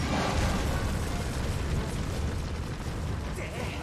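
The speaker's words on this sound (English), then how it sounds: "I thought a bomb would work." Bomb blast in the video game Zelda Skyward Sword, a loud dense rumbling burst of noise that fills the whole moment and slowly tails off.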